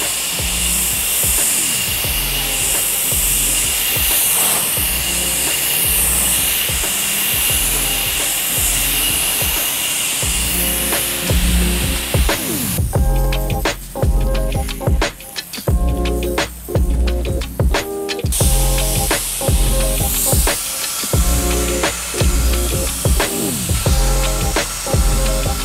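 Pressure washer spraying down a stucco house wall, a steady loud hiss of water jet with a motor drone beneath, broken by short bursts and pauses as the spray is aimed and released, with no talking.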